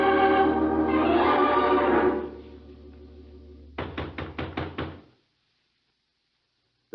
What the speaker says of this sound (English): There was no answer to my knock.